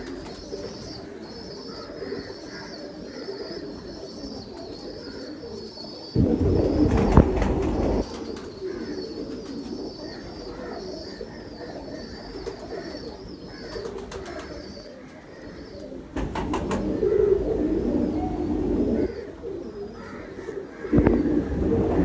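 Soft cooing from Ferozpori breed pigeons in a steady murmur, with a couple of louder bursts that sound like wings flapping or birds shuffling nearby.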